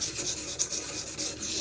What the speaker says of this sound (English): To try and make it easier, I'm just scratching it all,